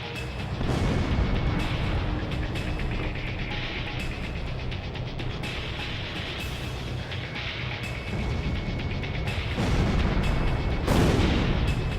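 Bombing explosions rumble through a dense combat scene in the flight video game Ace Combat 0, with deep continuous booms and louder blasts near the end under steady engine and battle noise.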